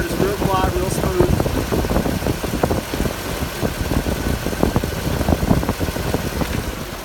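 The engine of a chipper bed dump truck idles at a steady, low rumble close by, while people talk over it.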